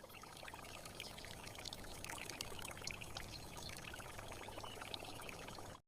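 Sweet potato starch batter for handmade noodles pours and drips in a steady, continuous faint stream that stops abruptly at the end.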